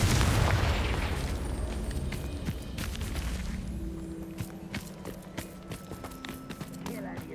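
A Confringo blasting spell in Hogwarts Legacy, a loud booming explosion at the start that decays into rumbling and scattered debris crackle, followed by footsteps and game noise.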